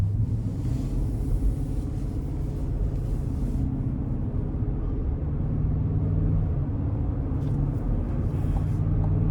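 Interior cabin sound of a 2024 Chevrolet Tahoe LT SUV with a 5.3 V8 and 10-speed automatic on the move: a steady low engine and road rumble with broadband tire and wind noise.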